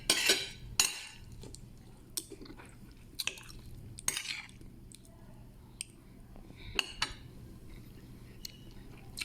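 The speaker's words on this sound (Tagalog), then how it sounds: "kumakain kami yung adobo namin" Chicken adobo is eaten from a pot with cutlery and dishes. Sharp metallic clinks and scrapes come at irregular intervals over soft chewing and a low background murmur.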